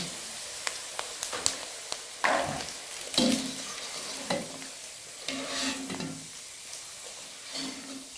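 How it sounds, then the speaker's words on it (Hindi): Macaroni fries in hot oil with a soft crackling sizzle, broken by several close scraping stirs and clinks of a utensil against the pan. "और अब जो बाकी के हैं उनको भी मैकरोनी को मैं इसके अंदर फ्राई करती हूँ।"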